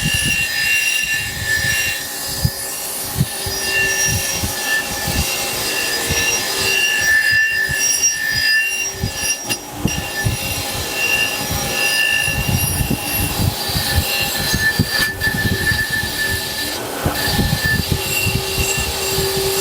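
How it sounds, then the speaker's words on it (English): A bench wire wheel grinds rust off a Depression-era Plumb axe head, giving a steady, loud, harsh whir with rough scraping texture that runs continuously throughout, no talking. "we're going to pop this puppy on the wire wheel and see what we see"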